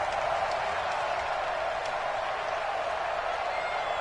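A steady, broad roar from a stadium crowd in a PS4 American football video game, swelling ahead of a big third down. It holds at an even level throughout without clear peaks.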